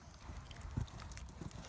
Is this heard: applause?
no